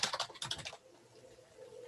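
A computer keyboard taps out an email address in a quick, close run of keystrokes lasting under a second, then falls quiet with faint room noise.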